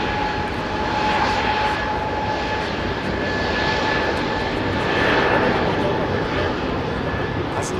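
An Airbus Beluga XL sits at Heathrow with its jet engines running before takeoff, a loud continuous roar with a whining tonal hum, while someone talks over it.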